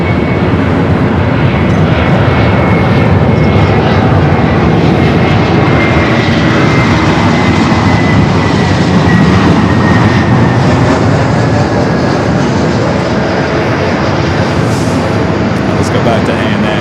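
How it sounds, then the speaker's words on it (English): An ANA airliner rolling down the runway at LAX bound for Tokyo Narita, its jet engines producing a loud, continuous roar with a rising whine, and a voice talking faintly beneath it. "Back to ANA, rolling down, heading back to Tokyo Narita."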